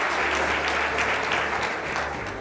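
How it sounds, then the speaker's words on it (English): Many young people clap together in a continuous, even burst of applause that holds steady and eases slightly at the end. "So, yes, you can clap."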